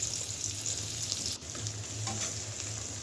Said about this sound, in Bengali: দিয়ে দিলাম কুচানো পেঁয়াজ।